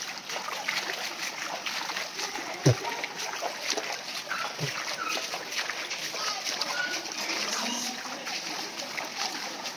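Flood water washes around houses in a village near Balasore, a continuous, moderately faint rushing and splashing with a couple of sharper splashes, heard under people talking.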